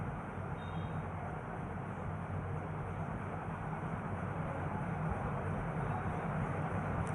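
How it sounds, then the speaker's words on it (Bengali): A train rumbles at Chatmohar railway station in Pabna, a continuous low, broad roar heard at moderate distance with no talking. "এই যে অবশেষে একটা ট্রেন আসতেছে"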